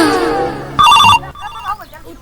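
A telephone gives a short, loud electronic ring between bits of talk in a comedy skit.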